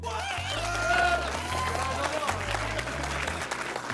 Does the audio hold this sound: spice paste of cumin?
no